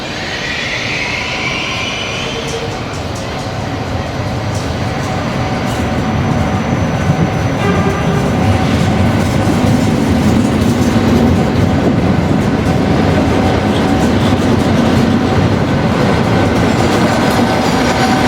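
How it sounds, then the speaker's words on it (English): Electric locomotive hauling a train out of the main terminal station at Marseille, loud continuous rumble and rail clatter with a brief high wheel squeal at the start, steady and close throughout. "Here we see another example leaving the main terminal station at Marseille."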